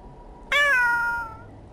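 A single clear, drawn-out cat meow in the video game Thirty Days & Seven Seas, loud and close against a quiet background, fading off after about a second.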